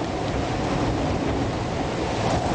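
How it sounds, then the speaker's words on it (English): A gale howls over a boat lying at anchor in False Bay, near the Cape of Good Hope, as waves wash past. The steady, loud roar of wind and surf never lets up. "there's a little gale blowing now, and we're actually anchored here"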